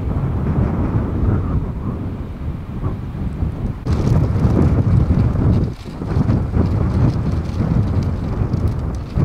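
Strong winter wind gusts of 35 to 40 mph roar across a frozen landscape near beehives, a loud, continuous rumbling buffet that surges abruptly, briefly dips, then pounds on again.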